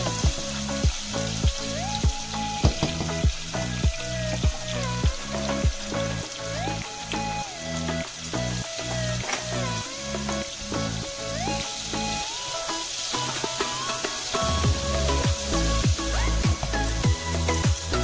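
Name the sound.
onions sautéing in a pan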